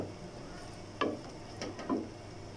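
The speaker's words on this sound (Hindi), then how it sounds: "और डालने के बाद इसको अच्छे से मिक्स कर देते हैं।" Masala eggplant being stirred and mixed in a pan, a low sizzle with a few distinct scraping, clinking strokes of the spoon against the metal.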